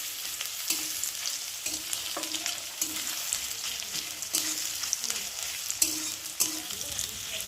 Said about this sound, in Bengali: দেখো রসুন আর পেঁয়াজটা ভাজা ভাজা হয়ে গেছে